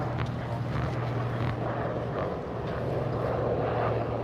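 Medical transport helicopter passing over a sunny beach boardwalk in Hollywood, Florida: a steady low engine and rotor drone, fairly distant, holding level throughout amid open outdoor ambience.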